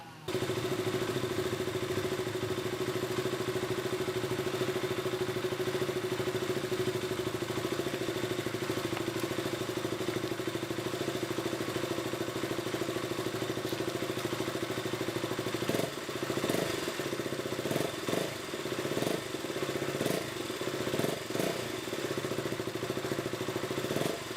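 A KTM Duke motorcycle engine runs steadily at idle after starting, a close, continuous mid-pitched drone with some clattery irregularities in the later part, heard in a garage setting during an oil change.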